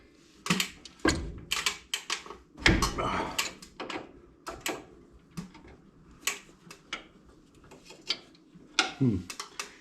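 Clanks and ratcheting clicks come from a wrench working a brake hose fitting at a wheel cylinder on a 1967 Chevrolet C10 pickup, with irregular close metallic knocks and scrapes spread across the moment.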